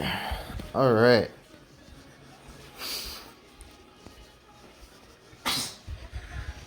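A single sharp sneeze bursts out near the start, followed by two fainter breathy snorts later on against a quiet background.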